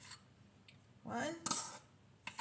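A few soft metallic clinks sound as baking powder is measured by the teaspoon into a bowl for cornbread, with a quiet voice talking around them.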